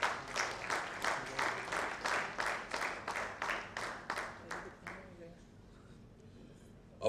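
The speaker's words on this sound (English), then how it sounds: "Please give them a huge round of applause." Guests at the Reso Villa launch event clap together in loud, rhythmic unison for about five seconds before the applause stops abruptly, leaving only quiet room noise.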